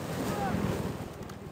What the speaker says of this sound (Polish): Bierzemy skuter